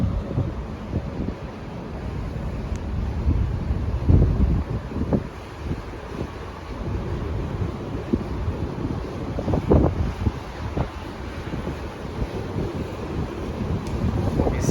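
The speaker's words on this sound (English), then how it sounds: "Pardon the wind, it's very windy out here because we're at sea." Strong wind buffets the microphone continuously on the open deck of a large cruise ship at sea at night, a loud, rough roar with gusts and faint wave wash beneath.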